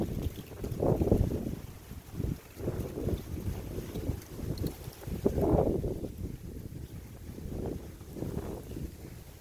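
Gusty wind buffets the microphone outdoors beside water on a windy day, rising and falling in loud rumbling surges throughout with no talk.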